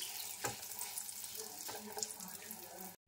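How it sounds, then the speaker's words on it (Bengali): Whole spices frying in ghee, a quiet, even sizzle with a couple of soft stirring knocks, cutting off abruptly near the end. "আমার ফোড়নগুলো খুব ভালোভাবে ভাজা হয়ে গেছে দেখুন"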